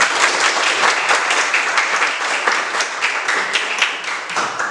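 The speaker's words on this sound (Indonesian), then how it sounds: "Kita beri aplaus buat kelompok 1." Applause from a classroom audience for a student group finishing a presentation, a steady, loud wash of many hands clapping that carries through the whole stretch without talk.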